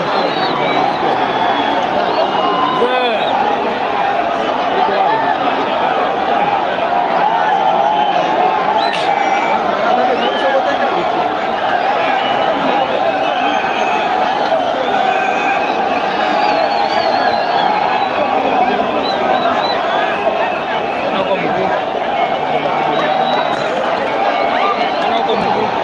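A dense crowd mobbing Raila Odinga's convoy in Mukuru kwa Njenga, Nairobi, fills the air with loud, continuous babble and shouting, a steady roar that holds for the whole stretch without letup.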